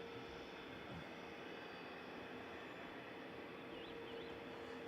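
An EasyJet jet airliner's engine spins up at Manchester Airport as a steady, distant, rising whine and roar that holds for five seconds, fairly faint and without talking.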